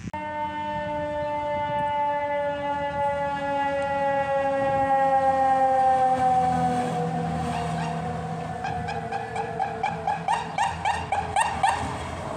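Several LA County Fire Department units, a quint, an engine, two squads and a private ambulance, respond through Pomona with sirens wailing in long sweeping tones, shifting to rapid yelp bursts near the end, loud and close over traffic.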